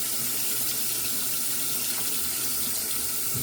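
Steady hiss of water running from a tap as a razor is rinsed during a shave, continuous and fairly close with no talking.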